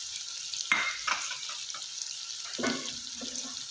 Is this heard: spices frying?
yes